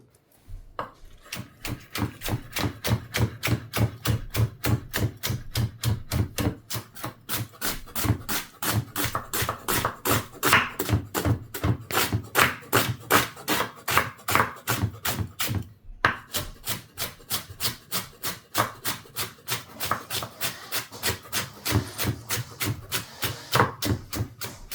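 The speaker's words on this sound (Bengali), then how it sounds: "পেঁয়াজ কাটতে কাটতে এখন পারি।" Rapid, steady knife chops on onions against a wooden board at home, a long run of close, evenly spaced strikes with one short pause partway through.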